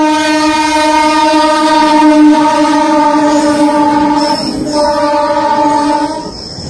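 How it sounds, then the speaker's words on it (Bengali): The Howrah Barbil Jan Shatabdi Express passes with a long, loud, sustained horn blast that holds for several seconds, then briefly wavers and fades, with a faint rumble of the train underneath. "জনশতাব্দী এক্সপ্রেস পার হচ্ছে হাওড়া বারবিল"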